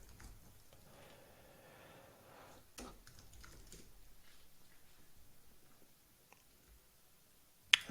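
Quiet, uneven tapping of keys on a computer keyboard, a faint patter of clicks with pauses and one sharper click at the very end, heard close with no talking.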